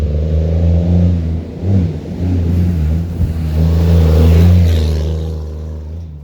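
A two-wheel-drive Toyota RAV4 engine revs hard on an off-road trail, a loud close droning growl that rises and falls as the throttle opens, with rumbling over rough ground and no talk.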